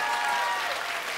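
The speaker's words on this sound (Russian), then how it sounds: "Аплодисменты, дорогие друзья!" Studio audience applause on a Russian television music quiz show, a dense, steady wash of clapping that carries through the whole short stretch without talk.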